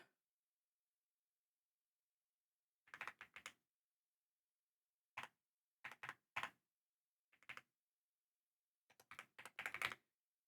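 Someone types on a keyboard in short, scattered bursts of clicking keystrokes, with silent pauses in between and a denser flurry near the end.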